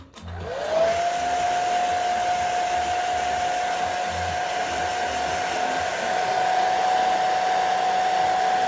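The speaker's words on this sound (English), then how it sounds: "I'm gonna use a blow dryer, so it's gonna get noisy for a second." A blow dryer switched on near the start and then running steadily with a loud whining motor tone and airy rush that holds for the rest of the clip.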